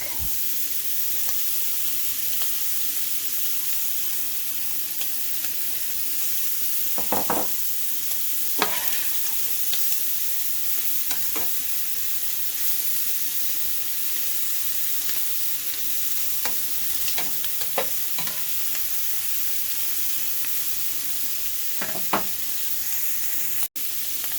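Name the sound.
garlic sautéing with shrimp in a pan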